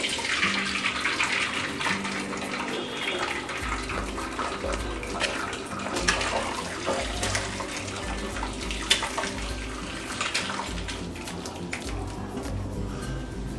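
Curdled milk pours steadily through a cloth-lined steel strainer for paneer, a continuous close splashing trickle of liquid running for the whole stretch.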